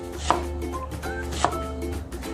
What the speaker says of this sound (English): So now we're gonna slice our onion.